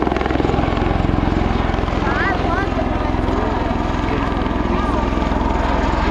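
A loud CV-22 Osprey tiltrotor aircraft with two Rolls-Royce Allison turboshaft engines roars overhead at an airshow, its steady rhythmic thumping and engine drone filling the whole clip, with a faint voice underneath.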